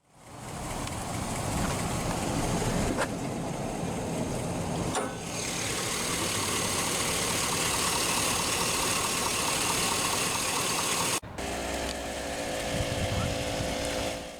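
A 2007 GMC Envoy Denali's Vortec 5.3-liter 16-valve pushrod V8 runs steadily at idle, a constant broadband rumble close to the microphone, with a brief drop in level partway through and a shift in tone near the end.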